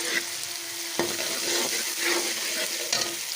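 Garlic ginger paste sizzling with fried onions in a pan, a continuous crackling fry with a few scraping stirs of a spoon against the pot.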